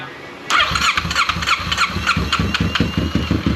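A Kawasaki Ninja motorcycle engine cranks and catches after throttle body cleaning, settling into a loud, close, uneven idle with rhythmic pulsing exhaust beats, and no talking over it.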